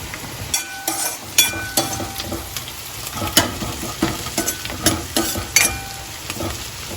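Onions frying in a pan for spicy chicken, a constant sizzle broken by frequent scraping and clinking stirs of a spatula, close and fairly loud, no talk.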